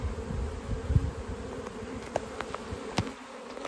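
Honey bees buzz in a dense, steady drone close by, with a few faint knocks and clicks over the hum.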